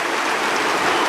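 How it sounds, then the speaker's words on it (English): A football crowd at an AFL match between Melbourne and Collingwood gives a loud, dense roar that mixes applause and booing, unbroken for the whole moment. "Sort of a mixture, isn't it, between applause and boo"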